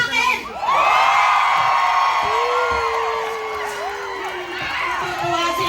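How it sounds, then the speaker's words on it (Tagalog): A live crowd in Calgary shouts and cheers loudly at a comedy show, a sustained roar of many voices with whoops rising over it, steady for several seconds. "May sigawan at palakpakan."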